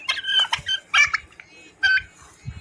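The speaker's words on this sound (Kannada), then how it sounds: "ಅದ ಟರ್ಕಿ ನೋಡಿದೆ, ಟರ್ಕಿ ಕೋಳಿದೆ" Turkeys on a farm call in quick bursts of warbling gobbles, three clustered outbursts close by with short pauses between them.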